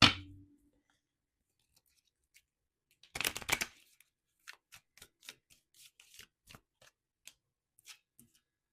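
Tarot cards are shuffled in a brisk riffling burst, followed by a string of light, separate card taps and flicks, close and fairly quiet.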